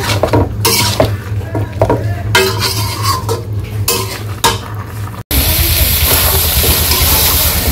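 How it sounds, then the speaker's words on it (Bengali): Chicken and potatoes being stirred and fried in a pot in a village-style kitchen: a spoon scrapes and clinks against the metal in short bursts over a steady sizzle, close and loud, then the frying grows louder and more even. "এখন আমি মাংস ভালো করে কষিয়ে নিই।"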